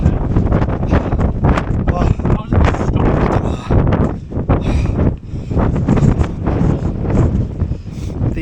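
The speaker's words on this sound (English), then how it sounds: "The absolute worst wind I've been in by a mile" A strong wind on a Lake District hill buffets the microphone in loud, continuous roaring gusts that rise and fall without a break.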